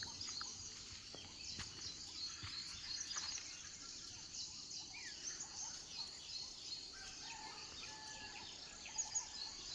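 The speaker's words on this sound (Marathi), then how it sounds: "तो तिकडे एक पक्षी ओरडतो, त्याचा आवाज बघा कसा येतोय." A distant bird calls a few times, faint and intermittent, over a soft backdrop of insect chirring at a quiet farm house in Safale, India.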